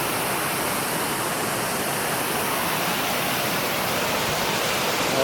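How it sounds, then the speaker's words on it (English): Water rushes over a spillway in a continuous, loud broadband roar, steady and unbroken throughout. "There's the spillway."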